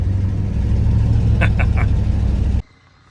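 An old square body Chevy pickup, around an 86, drives along with a steady low engine rumble heard from inside the cab, loud and close, before cutting off abruptly.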